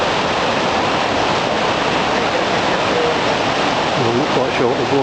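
Water rushing steadily over a water wheel at Cat Cat tourist village by a river, a dense unbroken roar close by, with a voice briefly heard near the end.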